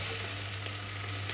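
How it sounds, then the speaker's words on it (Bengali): Eggplant frying in hot spiced oil makes a loud, constant close-up sizzle with a low steady hum underneath and no voices. "এটাতে বেগুনটাকে ভেজে নিই"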